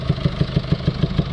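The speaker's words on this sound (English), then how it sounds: "Get that distinctive sound where you can hear exhaust gas coming outwards of the" Rhythmic puffing of exhaust gas escaping from the inlet manifold of an idling newer Euro 6 Mercedes Vito van with an EGR flow fault, even pulses about six per second, close and steady with no talk.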